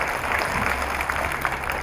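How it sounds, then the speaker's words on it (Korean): Applause from a crowd at a Buddhist temple pilgrimage gathering at Heungguksa in Yeosu, clapping for the Yeosu World Expo: a dense, steady patter of many hands that holds for the whole moment. "다시 한번 우리 여수 세계 박람회에 관계되는 박수 한번 쳐주시기 바라겠습니다"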